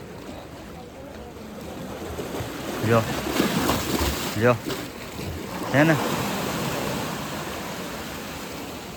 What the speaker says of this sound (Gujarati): હમણાં અહીંયા મોજું આવશે, બહુ ખતરનાક પાણી ઉઠશે